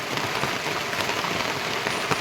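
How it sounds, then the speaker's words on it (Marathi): Steady rain falling on farmland in Jalna district, a dense, even hiss of drops with occasional louder splashes, constant and close with no talking. "कधी बी आपला पाऊस चालू व्हायला लागला आहे."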